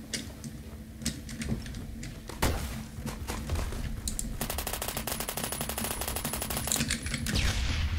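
Rapid gunfire from a K2 rifle in the Roblox game Phantom Forces, with scattered shots early on, then a long sustained automatic burst of fast, even cracks that dominates the second half.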